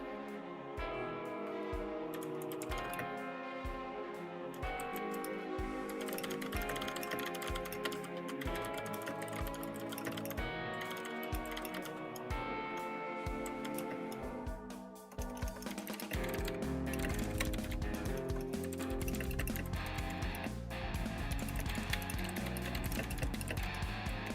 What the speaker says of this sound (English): We'll listen to that typing.